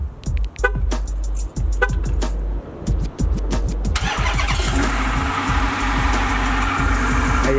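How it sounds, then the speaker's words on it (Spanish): Chrysler 300 with a V8 Hemi started by remote key: a few sharp chirps and clicks, then the engine cranks and catches into a steady, fairly loud idle that continues to the end. "Lo primero que me gusta es prenderlo desde la llave del control."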